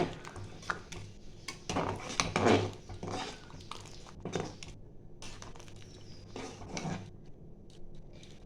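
Khichuri being stirred in a cooking pot over a medium-low flame, with repeated scraping and clanking of a utensil against the pot in uneven bursts, close and fairly loud, with no talk.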